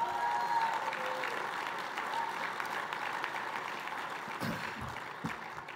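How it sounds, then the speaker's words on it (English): Banquet audience applauding steadily at a hockey hall of fame dinner, a dense sustained clatter of many hands that holds loud for several seconds before easing slightly. "How about a big round of applause for the godfather of North Dakota hockey"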